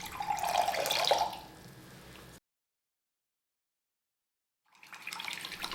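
Water splashes and trickles as it is poured into a sauce mixture of oyster sauce, soy sauce and cooking wine for a tofu pizza, a brief close pour that stops abruptly before another burst of liquid sound.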